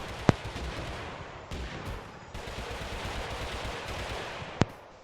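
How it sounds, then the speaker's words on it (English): Gunfire in the mobile version of Totally Accurate Battlegrounds: two sharp, isolated shots, one at the start and one near the end, stand out over a steady hiss of in-game background noise. "trying to figure out where the shots are"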